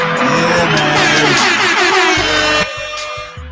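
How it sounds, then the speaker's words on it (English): Loud blasts of an air horn sound effect, stacked and sustained, cutting off abruptly near the end to quieter bursts. "We get a couple more air horns."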